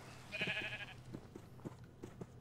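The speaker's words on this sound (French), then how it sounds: "Ah ouais, la famille des moutons." A Minecraft sheep gives a short, quiet bleat near the start of a faint game scene, followed by small soft taps and clicks.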